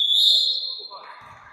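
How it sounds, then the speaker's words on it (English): A referee's final whistle ends a National League basketball match, one sharp, loud blast that trails off into crowd and court noise. "And that is the final whistle."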